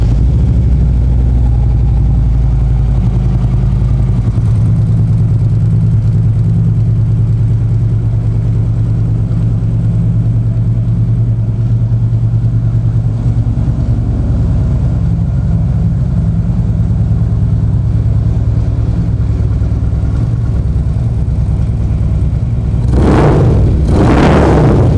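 A used Harley-Davidson Street Glide FLHX motorcycle with about 828 miles runs at a steady idle, a loud, low, continuous engine rumble heard close up, with a brief burst of noise near the end.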